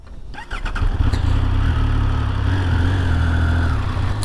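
A 2022 Triumph Speed Triple 1200RR riding off: after a short quiet start and a few clicks, the engine note rises into a steady, loud, close drone that holds as the bike pulls away.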